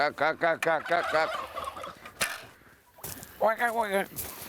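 Farm fowl call in rapid, harmonic gobbling bursts close by, with a sharp crack and brief human talk in between.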